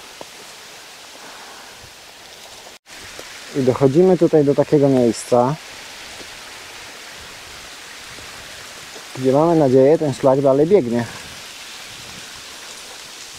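A mountain stream flows steadily beside a hiking trail, a soft continuous rushing hiss throughout, while someone talks in two bursts over it.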